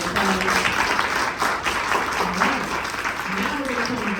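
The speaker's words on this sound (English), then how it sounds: "Can we please give Ms. Bibby another round of applause?" Crowd applause at a Women's History Month awards ceremony, steady clapping across the whole stretch with a voice speaking over it.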